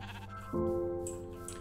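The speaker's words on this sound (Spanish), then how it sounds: "Ovejas Me encantaría llevarme ovejas" Sheep bleat in the Minecraft video game, a single drawn-out bleat rising sharply and holding steady for over a second over a busy background of game music and ambience.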